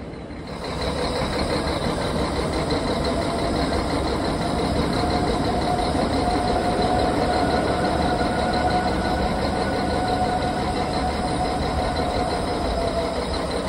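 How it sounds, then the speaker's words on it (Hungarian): An old Regio Călători passenger train from the 1960s era runs along rails in Romania, a steady loud rumble of wheels and carriage with a faint high squeal, continuous throughout, no talking. "Egyébként ezek a Regio Calatoros vonatok, ezek ilyen jó régiek"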